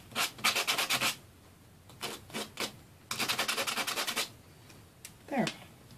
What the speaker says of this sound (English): And then you just need to get your rough edge off here with your sandpaper.